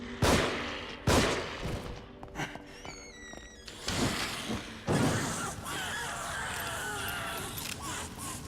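A shotgun-wielding enemy in The Evil Within fires loud, sharp blasts, with several heavy booms spaced across the scene among thuds and clanks, and brief voice sounds in between.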